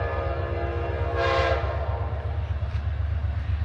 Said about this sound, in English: They're blowing its horn. Oh, it's Amtrak.